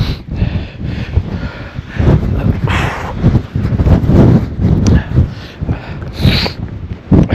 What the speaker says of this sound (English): Absolute wind.